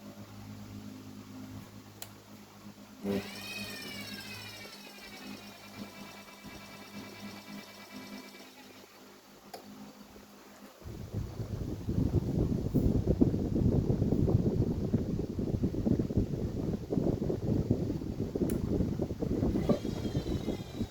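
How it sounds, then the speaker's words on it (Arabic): A washing machine motor hums and whines steadily, then shifts into a louder, rough churning spin that continues to the end. "الموتور بيلف في الاتجاه اليمين."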